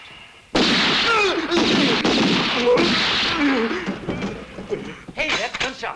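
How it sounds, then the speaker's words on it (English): A rapid series of gunshots cracks out amid shouting voices, with loud bursts packed together and more shots popping toward the end. "Hey, that's gunshots."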